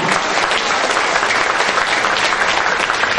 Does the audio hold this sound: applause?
yes